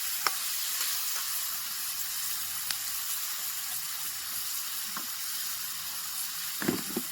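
Vegetables with carrots stir-fried in a pan for a Bhogi festival khengat dish at a farmhouse: a steady, moderate sizzle runs throughout, broken by occasional sharp clicks and scrapes of stirring.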